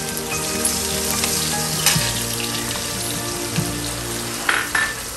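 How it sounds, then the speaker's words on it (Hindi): Long-sliced onion, one medium-sized, fries over high heat in a pan with a steady, close hiss, broken by a couple of soft knocks and a brief scrape, with no voices. "प्याज को हाई टेम्परेचर पे हमको फ्राई करना है पिंक कलर तक होने तक।"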